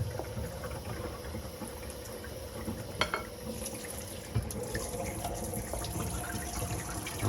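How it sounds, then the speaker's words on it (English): Warm water runs steadily from a kitchen tap, a close, continuous hissing splash with a couple of brief knocks, heard alone without talk. "I'm gonna wet it down, some warm water."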